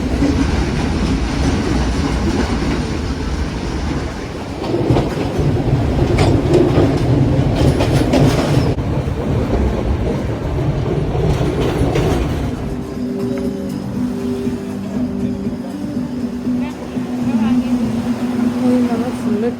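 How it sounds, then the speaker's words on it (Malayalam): A passenger train running during a journey in Sri Lanka gives a loud, steady rumble with rhythmic clickety-clack of wheels on rail joints and occasional squeals, heard from on board and closing with a quieter hum. "ഒരു ലോങ് 4-5 hours ട്രെയിൻ ജേർണി ആയിരുന്നു."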